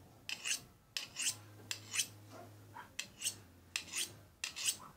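Kitchen knife blade rasped across the unglazed base of a ceramic mug in quick, close strokes, roughly ten gritty scrapes in a steady back-and-forth rhythm with no talk.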